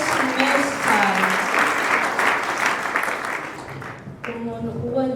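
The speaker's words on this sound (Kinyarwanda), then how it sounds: "tubakomera amashyi menshi abakorege, amashyi menshi cyane" Sustained applause fills the clip, a dense steady clapping from an audience at a gift-giving ceremony, loud and continuous with a brief dip near the end before resuming.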